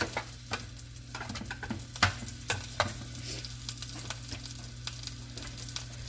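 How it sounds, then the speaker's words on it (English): Chopped ingredients for a chuck pot roast being stir fried until translucent, an even close sizzle punctuated by sharp spatula taps and scrapes against the pan at irregular intervals. "I'll just stir fry this so it's translucent"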